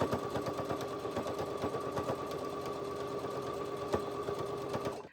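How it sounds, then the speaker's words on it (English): A sewing machine stitches binding onto a T-shirt neckband, a fast steady mechanical clatter of rapid needle strokes running continuously, close and moderately quiet, stopping at the end. "I'll just start back there and then start sewing along"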